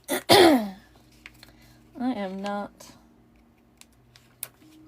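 A single sharp cough bursts out near the start, then a short voiced throat sound, with quiet clicks of crafting work around it in an otherwise still room.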